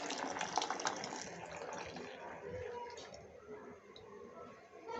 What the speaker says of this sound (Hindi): तो अब हम इसमें ऐड कर देंगे तकरीबन 1 कप भरा हुआ दूध का।